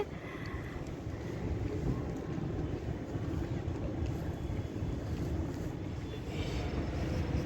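A boat cruises on the Hooghly river at Princep Ghat in Kolkata, passing beneath the Hooghly bridge, with a continuous low engine and water rumble buffeted by steady wind noise on the microphone.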